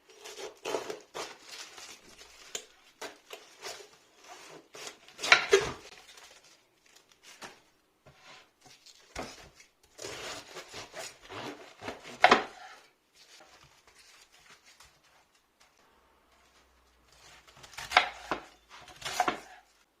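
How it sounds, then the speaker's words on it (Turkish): A small cabbage is chopped with a knife on a board for Turkish mixed pickles, giving irregular bursts of sharp close chops with quiet pauses between and no talking. "İlk önce lahanamı doğramak istiyorum."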